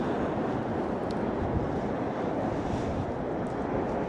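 Sea waves wash along the shore beside the Ulleungdo Dokdo ocean base, a soft, steady broadband surf mixed with light wind noise and no voices.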